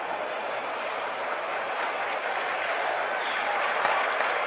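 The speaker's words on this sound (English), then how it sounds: "Now the Indian Prime Minister Nehru is leaving, and that's what causes the stir in the crowd below us." A large baseball crowd at Game 3 of the 1960 World Series stirs as India's Prime Minister Nehru leaves, a steady, dense wash of cheering and clapping heard from above, with no break throughout.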